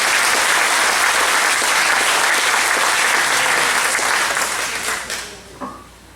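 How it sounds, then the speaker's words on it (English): An audience at a Fairfield Harbour annual meeting gives steady, dense applause from a room full of people; the clapping holds evenly for about five seconds, then thins out and fades to a few last claps. "let's give him applause as well"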